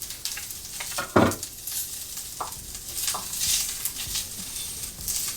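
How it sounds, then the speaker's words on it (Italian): Onion sizzling in a hot pan for yakisoba, steady frying hiss broken by a few scraping stirs, close and moderate, no voices. "cominciamo a mescolare. Aggiungiamo la cipolla"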